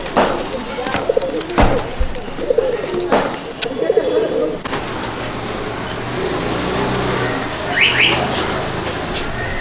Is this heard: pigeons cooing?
yes